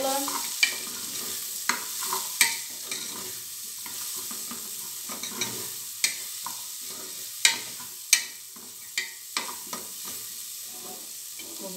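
Diced onion and calabresa sausage sauté in a pan, a soft bed of sizzle punctuated by a dozen or so sharp spatula taps and scrapes at uneven intervals, close and fairly quiet.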